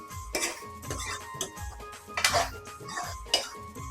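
Veg dry Manchurian is lifted from the pan and served onto a plate, with a quick series of close metal clinks, scrapes and taps of a spoon against cookware and dishware.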